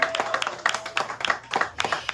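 A crowd at a Green Jam gathering claps for Gary Zuckett, a longtime CAG director, with quick, uneven handclaps close by, brief and lively, and a few voices mixed in underneath.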